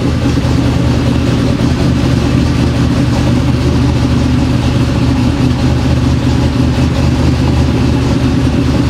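Twin-turbo Ford F150 with new headers idling, a loud, steady low rumble close by that holds even throughout with no revving and no talk.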